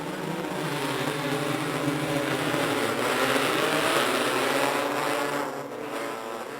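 CC Modified race cars run a national championship final at I-96 Speedway, their engines giving a continuous droning roar from a moderate distance that fades slightly toward the end.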